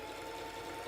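A sewing machine runs steadily while stitching fabric for a kids' newsboy hat, giving a close, even mechanical whir throughout.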